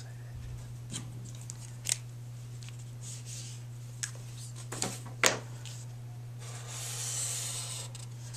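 Scissors snip through paper in a quiet room, a handful of short, crisp cuts spaced irregularly, close by and alone over a steady low hum.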